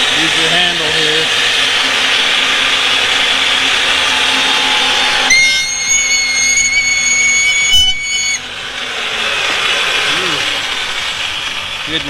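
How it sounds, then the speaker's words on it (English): A pipe threading machine reams the burr from inside a pipe: a steady mechanical whir with a high whine and a ratcheting, grinding edge, loud and close, shifting in pitch partway through. "That's why you take this, and then I'll run the machine, take that burr off."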